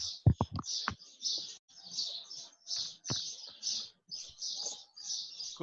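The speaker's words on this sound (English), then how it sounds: "still enjoying the birds chirping in the background" Many small birds chirp steadily throughout, a continuous run of bright high tweets with a few low knocks and faint background noises underneath, heard during an online meeting.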